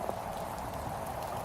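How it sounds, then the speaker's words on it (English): Rain falls steadily, a dense, even patter close by with no break, heard alone for a moment. "people say the rain is relaxing"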